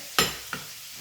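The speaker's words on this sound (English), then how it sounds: "I'm just gonna stir that up" Food is stirred in a pot, giving two quick scraping strokes, the first louder than the second, over a faint steady background hiss, close by.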